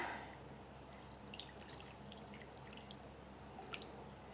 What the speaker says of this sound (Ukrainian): додаємо у нашу сковорідку ще приблизно стакан води